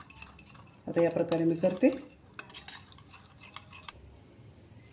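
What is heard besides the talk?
whisking curd in a bowl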